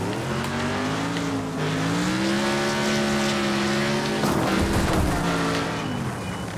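Race car engines in Wreckfest drone loudly and continuously with shifting revs, tires scrubbing and squealing as the car battles through a career-mode race, with a burst of rough crunching noise near the end.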